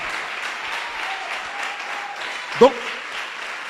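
A church congregation breaks into steady applause and cheering throughout, with a brief sharp vocal exclamation near the end standing out over the crowd.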